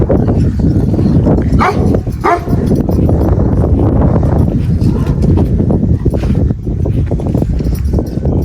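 Dogs bark in a noisy outdoor scene, with clattering, hoof-like knocks and loud broadband background throughout.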